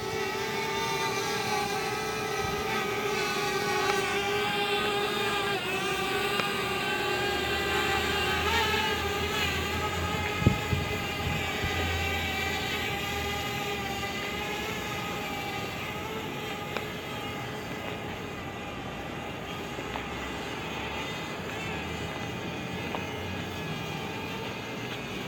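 DJI Mavic Air drone in flight, a steady high-pitched whine of buzzing propellers with layered tonal hum that holds for a long stretch, fairly near and even, with one brief thump partway through.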